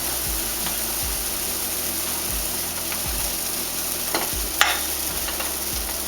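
Pancakes cooking in a pan give a steady, even sizzle with soft repeated low scraping or stirring thuds and one brief sharp clink, close and continuous with no talking.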